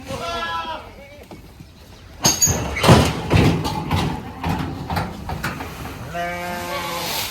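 Goats on a garden plot bleat near and clearly at the start and again at the end, with thumps, rustling and a person talking in between.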